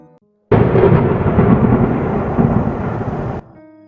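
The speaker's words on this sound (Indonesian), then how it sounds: "Hujan pun mulai mengguyur dengan suara petir yang saling bersahutan" A loud burst of thunder during heavy rain, a close rolling crash lasting about three seconds before cutting back to softer rain.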